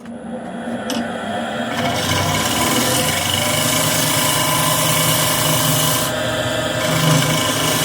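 Power tool rounding the corner of a birch wood plate, a steady continuous rasping, sanding grind running close and loud the whole time with no talk.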